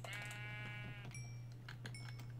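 A sheep in Minecraft lets out a clear bleat followed by a couple of brief, higher game chimes, close and moderately loud over a steady low hum.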